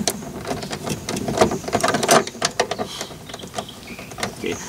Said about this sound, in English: with one hand holding the speaker, we'll go ahead and remove the top bolt